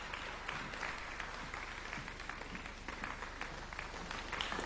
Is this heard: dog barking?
no